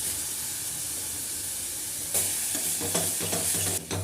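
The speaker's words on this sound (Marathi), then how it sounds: "वाटणाला तेल सुटेपर्यंत आपल्याला हे परतून घ्यायचं आहे" Masala paste with turmeric, kasuri methi, onion masala and chopped tomatoes sizzles in oil in a pan, a steady close hiss with scraping stir strokes growing louder and more rhythmic in the second half.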